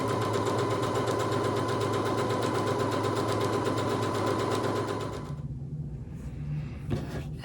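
A sewing machine stitches fabric strips together in a row for Fourth of July coasters, a steady rapid mechanical hum and clatter that runs for about five seconds and then stops, followed by faint handling noises.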